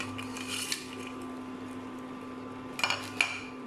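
Noodles and potato stirred together in a cooking pot make a few brief metallic clinks and scrapes over a steady low hum, with a short cluster of clanks near the end.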